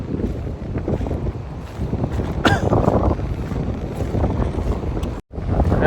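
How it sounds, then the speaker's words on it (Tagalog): Strong wind in Batangas buffets the microphone with a steady, heavy roar, gusting throughout before cutting out briefly near the end. "grabe yung lakas ng hangin mga kababayan"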